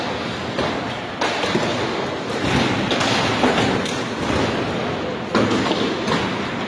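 Heavy hailstones pound hard and nonstop on a roof or surface during a violent storm, a dense loud clatter of thuds and impacts with sharper surges of battering throughout.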